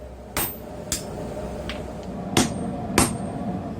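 A hammer strikes a hot cutting chisel on mild steel at a forge, giving about five sharp metallic blows at uneven intervals, close and distinct over a low background rumble.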